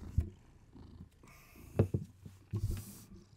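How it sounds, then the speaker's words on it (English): A cat purrs close to the microphone in a quiet room, the soft rumble coming in short uneven bursts with small pauses between them. "We'll move the microphone right away from the cat."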